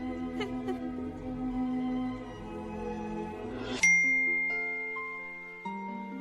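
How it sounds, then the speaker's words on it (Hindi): A phone notification ding rings out early in the morning: a bright chime lands partway through over a darker musical bed, followed by a sustained tone and a few gentle tonal steps. "अरे, ये नोटिफिकेशन, वो भी इतनी सुबह सुबह।"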